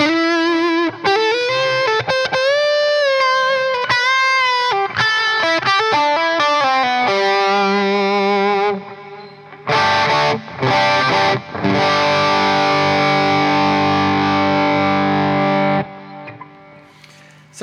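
Electric guitar played through a Chandler GAV 19 T amplifier, a run of distorted melodic notes and sustained chords with brief pauses, loud and close, ending in a ringing chord that fades out.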